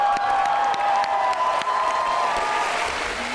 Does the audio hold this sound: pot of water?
no